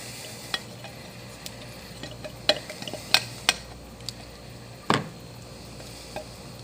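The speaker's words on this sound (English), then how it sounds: "Here's where we'll use the spatula to make sure that we get all the soap out." Quiet scraping and knocking as a spatula works soap out of a container, with scattered sharp clicks and taps over a low background hum.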